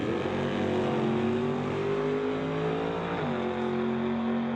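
A 1967 Nova and a Chevelle drag racing side by side on the strip, V8 engines roaring loud and steady with rising revs, a brief gear-change dip midway, then continuing at full throttle.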